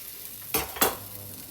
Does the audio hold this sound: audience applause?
no